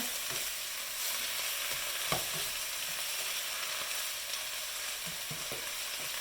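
Kale stems and carrots sautéing in a pan, a continuous close sizzle with light scraping stirs and a few soft clicks of the utensil, no talking.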